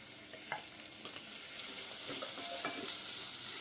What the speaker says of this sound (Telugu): పచ్చిమిర్చి ముక్కలు వేగినాయండి.